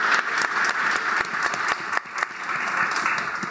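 A conference audience breaks into steady, dense applause for a criminal justice and civil liberties program, a close and continuous wash of many hands clapping that dips briefly around the two-second mark, with no one speaking over it.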